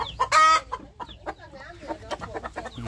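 Light Sussex chickens cluck close by, with a loud, brief squawking call from a rooster at the start followed by a run of short, choppy clucks.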